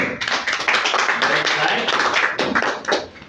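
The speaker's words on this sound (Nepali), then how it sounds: "आमेन ताली बजाउने छौँ" A church congregation claps hands together in a steady, dense burst of applause that continues loudly throughout.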